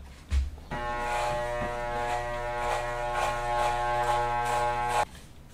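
Electric hair clippers with the guard lever pulled down to the short setting buzz steadily at close range, their hum broken by soft rhythmic swishes as they pass through hair.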